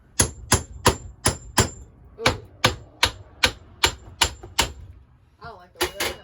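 A hammer strikes in a steady run of about fifteen sharp, loud, evenly spaced blows with a short pause partway through, and a voice briefly exclaims near the end.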